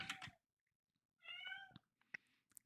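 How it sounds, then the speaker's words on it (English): A house cat meows insistently to be let outside, a few drawn-out harmonic cries with short pauses between them, close and fairly quiet indoors. "Hear my cat freaking out?"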